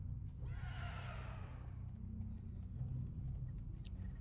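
A horse in the video game World of Warcraft gives one clear whinny early on, with a low rumbling game ambience continuing underneath afterward.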